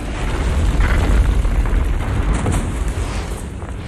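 A booby trap explosion from The Hunger Games film: a heavy, sustained boom that rolls into a deep, rumbling roar lasting several seconds at steady loudness.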